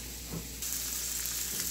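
Onion fries in a pan for a Mumbai-style chicken curry, giving a faint, even sizzling hiss that holds steady, with a slight rise partway through.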